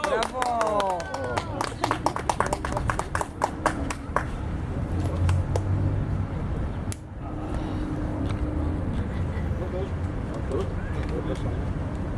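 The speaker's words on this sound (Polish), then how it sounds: "Brawa." Outdoor crowd applause at a Flag Day ceremony by a monument in Gdańsk, following a brief voice, with scattered claps that settle into steady, moderately distant clapping.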